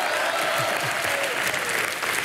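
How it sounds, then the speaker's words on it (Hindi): Studio audience on a Hindi TV comedy show claps steadily as one dense, continuous round of applause, with faint crowd murmur mixed in. "हंस लो पर ताली ठोको."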